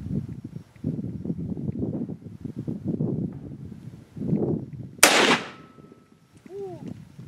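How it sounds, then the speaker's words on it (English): A single sharp, loud Mosin Nagant military surplus rifle shot cracks outdoors after a stretch of steady wind noise, followed by a brief decaying echo and a faint tonal chirp. "first shot with the Mosin"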